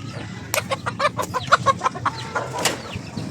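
Rhode Island Red and native crossbreed chickens clucking in a quick series of short calls, fairly close, over a low ambient rumble, with a louder squawk near the end.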